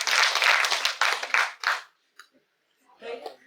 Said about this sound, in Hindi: अशफाक के लिए 3 तालियां